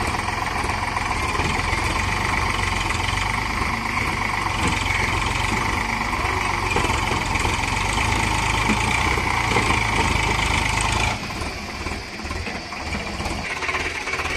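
Eicher 485 tractor engine labouring steadily under load with a deep, continuous knocking drone while its trolley sits stuck in a ditch; loud and close, dipping slightly near the end.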